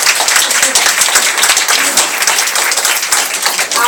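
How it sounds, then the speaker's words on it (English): Loud, close applause and clapping from an elementary school reading fair crowd honoring participants, dense and continuous for a few seconds. "let's give everybody a round of applause"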